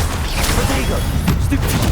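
An Incendio fire spell goes off in Hogwarts Legacy as a dense, booming crackle of magical bursts. It is loud and continuous, mixed with a voice.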